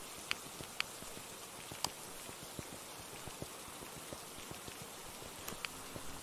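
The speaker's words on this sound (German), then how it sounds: "Oh mein Gott, ist der Regen laut." Steady rain pours down in the Phasmophobia ghost-hunting game, a dense continuous patter with scattered sharper droplet ticks, loud and unbroken with no talk over it.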